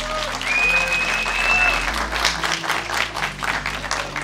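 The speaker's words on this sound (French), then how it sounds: "vous pouvez vous applaudir." An audience at a cinema screening and review event applauds continuously, with a dense, steady wash of clapping and a faint tone sounding over it.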